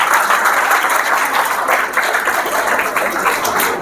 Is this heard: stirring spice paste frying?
no